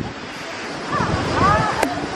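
Strong gusty wind rumbling against the microphone near Varone waterfall and Lake Tenno, Italy, with people talking faintly underneath and a brief sharp tone near the end.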